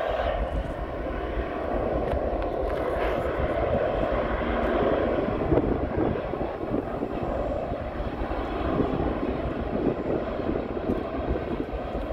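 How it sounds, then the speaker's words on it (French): An Airbus airliner starts its takeoff roll at a Paris-area airport, a steady, loud broadband engine roar that holds fairly constant throughout, with light wind buffeting and no talk. "Ça y est, l'Airbus il va avancer là."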